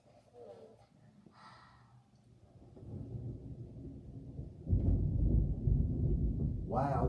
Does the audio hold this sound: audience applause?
no